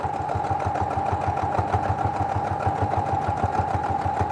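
A sewing machine runs steadily while stitching along the edge of a quilt, a fast, even mechanical chatter with a regular pulsing beat, close and fairly loud, with no talking.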